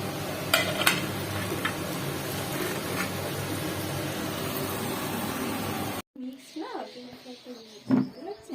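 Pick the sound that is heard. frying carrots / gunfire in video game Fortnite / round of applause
frying carrots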